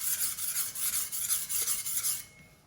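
A cleaver blade rasps back and forth across a sharpening stone in quick, even strokes, a bright gritty scraping that is close and loud, with no voices.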